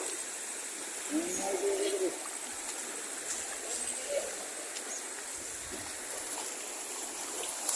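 A small flood-prone creek flows in a continuous, even hiss of running water, with a brief whistling, hoot-like call rising early and a few faint bumps in the background.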